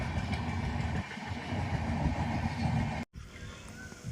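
A Kota–Ahmedabad passenger train passes a village railway station beside papaya fields, making a loud, steady rumble and rattle of wagons that continues without pause.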